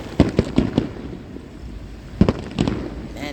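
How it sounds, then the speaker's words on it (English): An outdoor fireworks show sends out two clusters of sharp booms and crackling pops, each a quick run of four or five bangs, loud and echoing with quieter gaps between. "I finally found a place near me to watch the fireworks"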